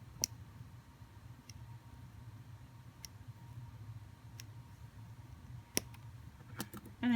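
Thin jewelry wire is snipped for handmade ear wires, giving several sharp, isolated clicks spaced irregularly over a quiet, faintly humming room, with a brief louder clunk near the end.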